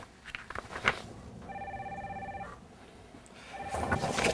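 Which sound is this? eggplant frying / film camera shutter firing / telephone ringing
telephone ringing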